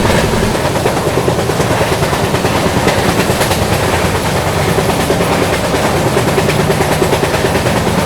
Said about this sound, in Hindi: सामने से आ रही है जयनगर एलटीटी पवन एक्सप्रेस